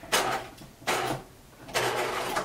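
A sewing machine stitching a fabric seam for a skirt, guided along the presser foot edge, running in three short bursts of whirring with brief pauses between, close and fairly loud.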